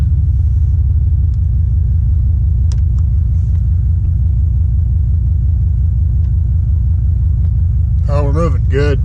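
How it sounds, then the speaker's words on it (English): A truck drives in four-wheel drive, its engine holding a loud, deep, steady rumble inside the cab throughout, while near the end a voice briefly calls out over it. "she's in four-wheel drive for the first time in over a year"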